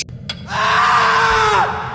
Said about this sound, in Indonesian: terdengar suara teriakan dari luar kamar